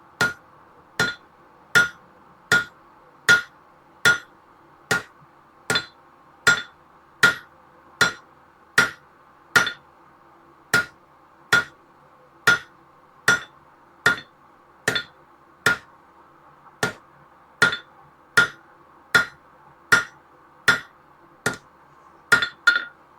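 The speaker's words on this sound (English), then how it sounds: "We're kind of doing a little bit of drawing down over the edge of the anvil" A bright piece of hot metal being drawn down over the edge of an anvil, struck in a steady run of ringing hammer blows roughly once per second, close, loud and clear with no talking.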